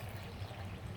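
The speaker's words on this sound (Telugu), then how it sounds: "ఇప్పుడు మనం వాటర్ వేయాలన్నమాట." Water poured into blended mango pulp for homemade mango juice, heard as a faint, brief, steady pour over a low hum, with no voices.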